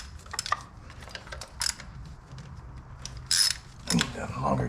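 A ratchet loosens screws on the valve cover of a 2011 Ford F150 5.0 V8, giving close bursts of rapid clicking separated by brief pauses, with light metallic handling sounds in between.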